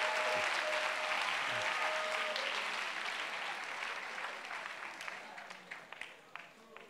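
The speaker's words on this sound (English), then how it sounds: "clap for Mama Doro." A church audience in Mampong, Ghana claps together in a broad round of applause that gradually thins and fades, with a faint voice briefly heard near the start.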